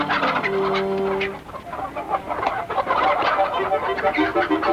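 Agitated chickens cluck and squawk in a hen house, a busy, overlapping flock that stays loud for several seconds, with a sustained squawk early on.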